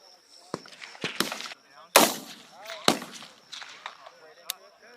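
Rifles fire on a Marine Corps training range as a voice talks over them. A few sharp, loud cracks come at irregular intervals between stretches of speech.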